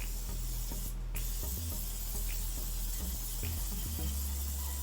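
Steady, broad hiss of a partly clogged oil spray bottle with a brief stronger burst early on, heard close over low rumbling handling noises.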